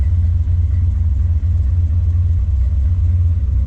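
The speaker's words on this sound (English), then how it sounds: "Idling just about 500 RPM here, which is good." A 1969 Corvette 427 Tri-Power V8 with a 4-speed manual, rated at 400 horsepower, idles at about 500 RPM in a loud, steady, deep rumble with an even low throb close by and no voices.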